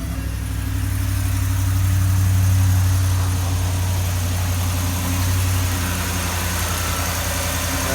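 A 2013 Ford F-250 with the 6.2 engine idles steadily after a misfire repair, giving a low, smooth rumble with a slight swell in the middle and no talk over it.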